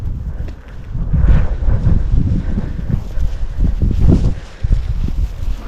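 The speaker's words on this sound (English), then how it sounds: "Oh, that wind!" Strong wind buffets the microphone outdoors among historic buildings in Bukhara, Uzbekistan, a loud, rumbling, gusty roar that surges and dips throughout with no talk.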